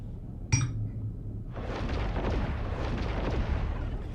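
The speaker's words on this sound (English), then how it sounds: "That was quite the explosion." A sharp blast from an exploding ship in the space game Star Citizen, then after a brief pause a sustained roaring, crackling rumble that keeps going at moderate loudness.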